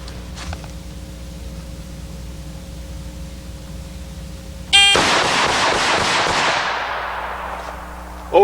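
A single loud, close pistol shot of hot .357 Rowland ammunition, a sharp blast followed by a long ringing decay over several seconds, with another shot starting at the very end, no voices.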